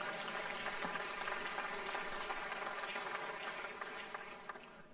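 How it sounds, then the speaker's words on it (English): Sustained applause from a crowd of legislators at the opening address of the Louisiana Legislature's 2017 regular session, a dense even clatter of clapping that carries steadily and tapers slightly at the end. "that's worthy of some applause"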